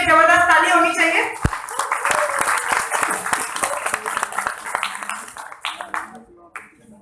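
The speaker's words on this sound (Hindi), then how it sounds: "एक बार इनके लिए जबरदस्त ताली होनी चाहिए" Audience applause for a woman being honoured at an RMCL product presentation, dense clapping that sounds out strongly from the start and then thins into scattered claps before fading near the end.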